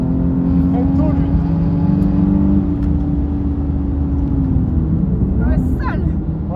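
A Nissan 370Z Nismo drives a trackday at Croix-en-Ternois, its engine holding a steady loud drone with a slow pitch drift and a brief rising whir near the end, heard from inside the car.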